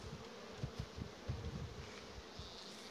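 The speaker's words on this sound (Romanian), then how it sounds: "Albina a plecat în jos." Honeybees buzz around an open beehive during a frame inspection, a close, steady drone with irregular pulsing swells as individual bees pass near.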